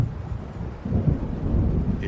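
A low rolling rumble of thunder from an approaching storm in the video game Alan Wake Remastered, sustained and fairly loud, swelling partway through with a rain-like wash over it.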